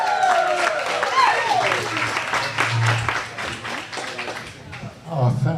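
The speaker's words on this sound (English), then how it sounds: "That's great applause." Audience applause and clapping from a crowd at a bike storytelling night in a coffee shop, loud and close, rising and falling over several seconds with voices and speech mixed in.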